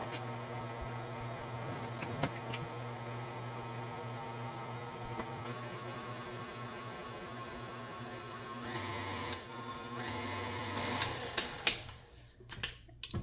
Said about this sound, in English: I got my dough hook on my KitchenAid. I'm gonna slowly stir in the first 3 cups of flour